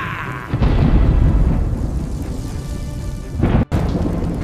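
Cartoon thunder crashes in after summoned lightning, a loud rumbling roar that sustains for several seconds with a sharp renewed crack near the end, no voices over it.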